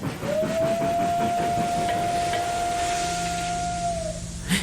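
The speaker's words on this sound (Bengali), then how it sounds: "হঠাৎ ঝিমিয়ে থাকা স্টেশনে ঝিকঝিক আওয়াজ করে ট্রেনটা ঢুকলো।" Arriving at a station, a steam train lets out one long, loud, sustained whistle at a steady pitch, with the rumble and clatter of the rail cars underneath before the whistle cuts off.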